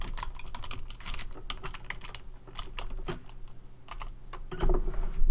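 Rapid, uneven typing on a computer keyboard during a lecture on old Lee Sedol Go games, with clicky keystrokes in bursts and brief pauses, close and fairly loud, with no talking.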